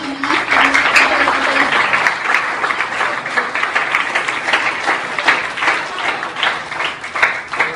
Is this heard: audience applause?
yes